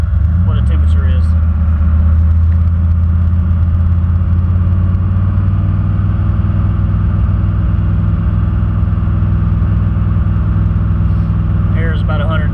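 A car with a newly installed heater box idles and runs during a test drive, a loud continuous low engine rumble from start to finish, with faint light rattles near the beginning and end.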